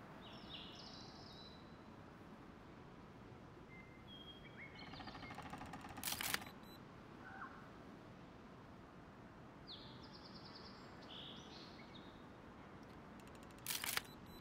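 Scanning in Expeditions: A MudRunner Game on the Arizona map, heard as faint, quiet game ambience with chirpy electronic tones and two short, sharp clicking bursts spaced well apart, with no talking.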